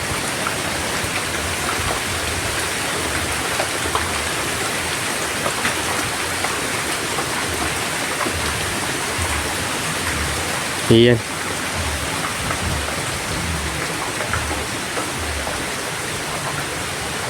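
Heavy rain pouring down on a typhoon-hit garden, a loud, dense, steady hiss of drops throughout, with a brief sharp knock near the end and a short spoken word.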